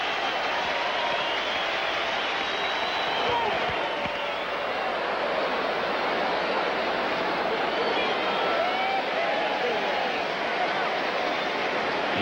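A baseball stadium crowd during a ninth-inning at-bat between the Giants and Cardinals, a steady, broad roar of cheering and murmur that holds at an even level throughout, distant and unbroken.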